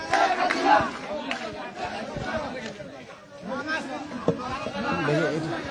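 A political procession crowd in Zajira, Shariatpur, chants slogans loudly and rhythmically, with overlapping voices and chatter close by. A reporter speaks over it.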